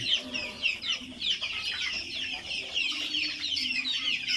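Chickens clucking and chattering steadily, several Fayoumi hens close by with busy overlapping calls, no talking.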